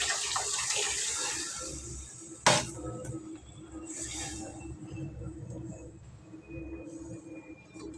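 Tamarind water mixed with tomato and coriander leaves pours into a cooking pot for dried-fish rasam, a steady splashing stream with a sharp clank partway through, then quieter trickling.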